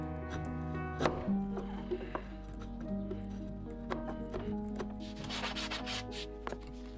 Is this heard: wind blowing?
no